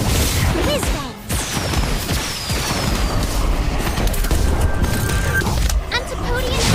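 Whiz Bangs fireworks card in Harry Potter: Magic Awakened, loud popping booms and swishing whistles amid a busy battle mix, with a brief lull around the one-second mark.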